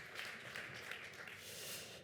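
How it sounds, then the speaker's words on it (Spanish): Audience applause for a newly introduced guest speaker at a climate talk, a steady dense wash of clapping filling the hall at moderate level without a break. "Un fuerte aplauso para él, por favor."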